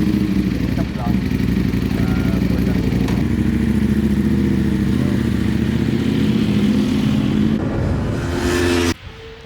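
Motorcycles on a race track produce a steady, loud engine drone with some revving, heard alongside nearby talking before the sound cuts off abruptly near the end.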